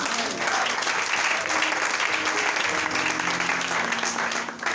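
A church congregation at a French-language service applauds and cheers the Lord, with dense, steady clapping throughout and faint voices mixed in beneath it.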